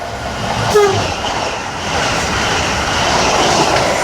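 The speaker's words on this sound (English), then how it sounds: "with a nice little cheeky pip there from the driver from Heathrow Terminal 5 to London Paddington" Passenger train from Heathrow Terminal 5 pulls into the station bound for London Paddington, its driver giving one short horn pip early on over a steady rolling rumble and station ambience.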